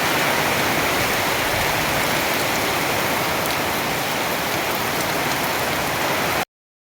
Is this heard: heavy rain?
yes